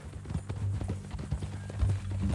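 Horse hooves clip-clop in a steady, even gait in the Red Dead Redemption video game, close and fairly loud over a low droning background.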